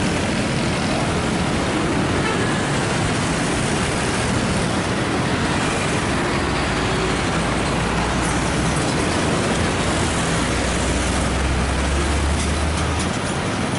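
Dense road traffic with passing trucks rumbles at the Banyumanik bus terminal junction in Semarang, a loud, constant wash of engine and tire noise with a low heavy-vehicle drone building toward the end.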